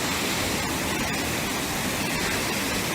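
Water park waterfalls pour along a lazy river, a steady broadband rush of falling water that fills the scene without break, with no clear talk above it.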